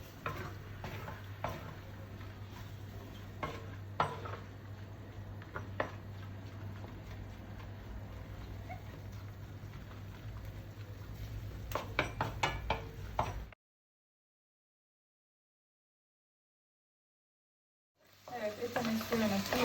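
Tantuni meat sautés in a pan with a low steady sizzle, punctuated by scattered clicks and scrapes of stirring that grow busier before a few seconds of silence, then frying resumes loudly.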